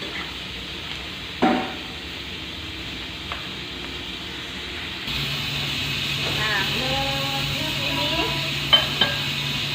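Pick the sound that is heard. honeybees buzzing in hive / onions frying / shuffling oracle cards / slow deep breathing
onions frying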